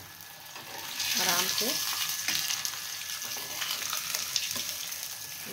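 Radish paratha cooking on a hot tawa griddle gives a steady, moderate broadband sizzle that swells after the first second and holds, with someone speaking softly over it.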